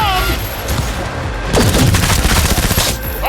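Loud bursts of gunfire crack out in Cyberpunk 2077, with rapid overlapping shots and booms that intensify midway, mixed with shouting voices.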